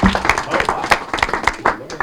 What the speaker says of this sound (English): wait for the applause